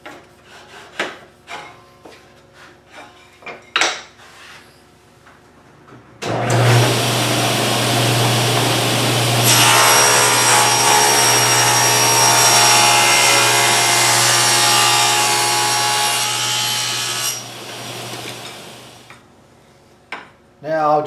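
A power saw cuts a scrap walnut piece to length in a workshop: a steady, loud whining buzz holds for about thirteen seconds before winding down, preceded by scattered knocks and handling noises.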